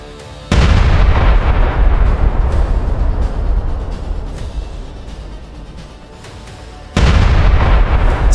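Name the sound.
tank cannon firing at enemy tank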